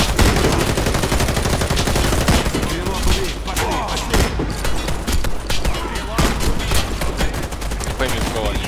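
Dense automatic gunfire in the video game Warface, rapid overlapping bursts and shots pounding continuously and loud, with a voice talking faintly underneath.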